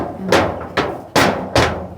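A child knocking hard on something solid: four loud, close thuds at a steady, unhurried pace, with no talking.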